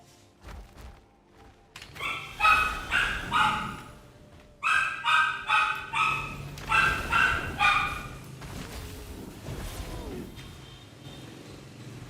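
A dog barks in rapid bursts of sharp yaps and yips, loud and close, with quieter whimpering sounds between the volleys and a low murmur in the background.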